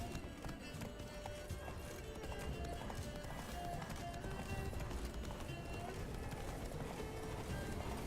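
Roach, a horse in The Witcher 3: Wild Hunt, Blood and Wine, gallops with a steady, close run of pounding hoofbeats through the whole stretch, set within a dense wash of game sound.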